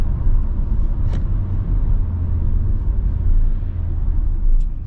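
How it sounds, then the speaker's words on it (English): A 2024 Hyundai Venue SEL engine drones steadily from inside the cabin while downshifting, a continuous low rumble of road and motor noise with a brief faint click partway through. "And now we're going to downshift."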